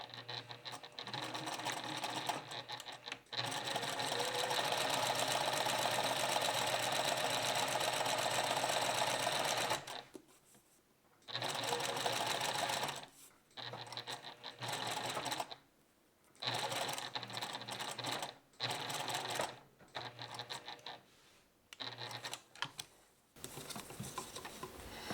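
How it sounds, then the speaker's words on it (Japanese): Sewing machine stitching a dart in fabric along the edge of a sheet of sandpaper, running in steady bursts of rapid patter, a long continuous run and then several shorter starts and stops, close and alone. "私はいつもこのサンドペーパーをのせてその際を縫うようにしています。"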